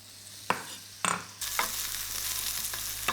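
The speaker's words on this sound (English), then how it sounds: "So let's go in with a little bit of oil and then in with the potatoes." Potatoes drop into hot oil in a pan with a couple of sharp clatters, then a steady loud sizzle of frying takes over with occasional stirring scrapes.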